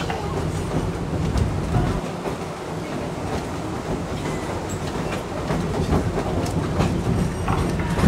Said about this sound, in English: The train could resume movement at any point in time.